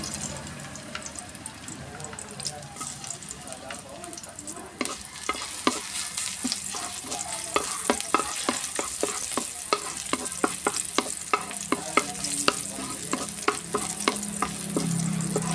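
Garlic frying in a pan gives a steady, close sizzle, broken by sharp clinks and scrapes as it is stirred. A faint watery hiss runs underneath, and there is no talk.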